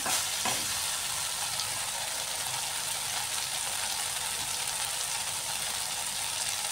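Cauliflower, potato and soybean curry frying in a pan, a continuous loud sizzle with scraping stirring strokes throughout and no talk.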